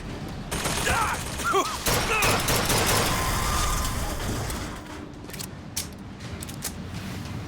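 Gunfire from a fight in the video game Bioshock Infinite, a dense fusillade of shots and mechanical clatter that holds steady for several seconds, then thins to a few scattered cracks under a continuous game soundscape.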